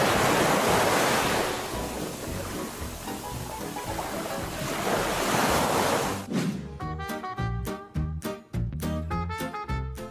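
Ocean surf washes in as a loud, continuous roar of breaking waves with wind noise, then gives way to other sounds in the final seconds.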